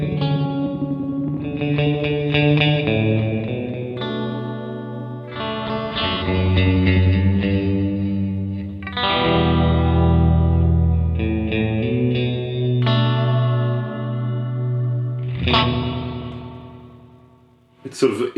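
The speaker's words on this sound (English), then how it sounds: "in modern setting, it just sounds to me like a really good analog delay" Guitar through an oil can delay pedal on its modern setting with heavy feedback, played as close, loud notes and chords whose repeats smear into a thick, sustained wash.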